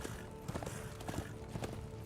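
Hooves of a horse in the video game Darksiders 2 clip-clop in a quick, steady gallop rhythm, faint and unbroken over soft game ambience.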